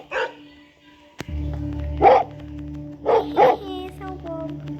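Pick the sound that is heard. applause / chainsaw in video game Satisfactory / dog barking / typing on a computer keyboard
dog barking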